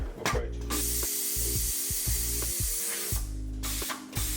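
A Solo S button-wrapping machine runs its automatic threading cycle, giving a steady close mechanical whir with repeated short clicks and clunks of the mechanism, with no talking.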